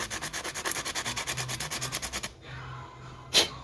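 Fine-grit sandpaper, about 120 grit, rubs a spark plug electrode from a 3 hp Briggs and Stratton engine in rapid, rhythmic back-and-forth strokes, close and crisp, then stops, followed by one brief scrape.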